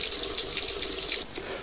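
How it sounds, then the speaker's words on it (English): Hot water gushes steadily from a household tap into a basin, a continuous close hissing splash that drops in level near the end. "if you want instant piping hot water, either a basin full like that"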